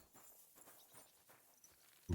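A horse clip-clops steadily in the video game Kingdom Come Deliverance II, soft and fairly quiet, with no talking.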